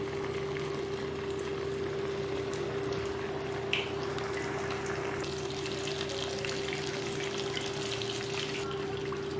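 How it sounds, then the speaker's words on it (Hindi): Chicken deep frying in hot oil over a very low flame gives a steady, even hiss of bubbling that holds constant throughout, close by and unaccompanied by talk. "अब हम इसमें चिकन फ्राई कर लेंगे और फ्लेम अपनी बिल्कुल स्लो रखेंगे।"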